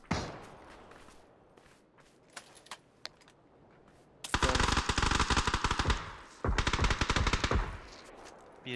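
Gunfire in the video game PUBG rings out in two long, loud automatic bursts after several scattered single shots, with faint game ambience between them.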